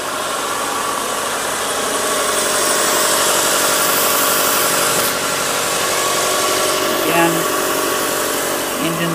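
Engine of a 1987 VW Syncro van with a Subaru swap idling steadily up close, a smooth continuous hum with a brief clunk near the end.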